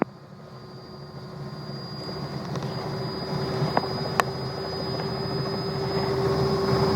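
The turbine of a Robinson R66 helicopter winds back up toward flight power, a loud, steady whine and roar that gradually builds in strength, with no talking.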